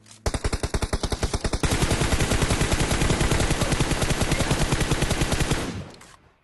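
Sustained automatic gunfire in the PUBG game, loud and close, with rapid even bursts that run together into a long continuous volley before cutting off.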